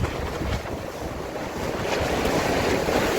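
Strong wind gusting at night by the sea in Varazze, a steady loud roar of wind buffeting the microphone over crashing surf, continuous for a few seconds with no voices.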